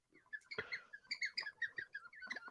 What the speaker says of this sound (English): Yeah, you hear it tweeting. It actually makes noise.